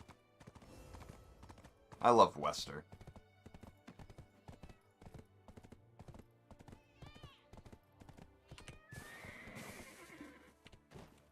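A mount's hooves clip-clop steadily in the Black Desert Online game, with a horse whinnying at moments; a person talks briefly over the even trotting rhythm.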